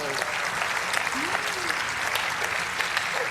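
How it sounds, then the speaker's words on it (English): A studio audience breaks into sustained applause on a comedy panel game show, dense even clapping with scattered cheers and a few voices, moderately loud and unbroken. "A special round of applause for who I presume is the inevitable winner, Mr. Tim Key"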